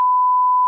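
A censor beep over dialogue: a single loud, steady, pure electronic tone holds for almost a second and then cuts off abruptly.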